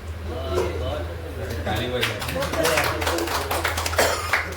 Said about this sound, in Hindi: खुद के लिए ताली जरूर बजवाता हूँ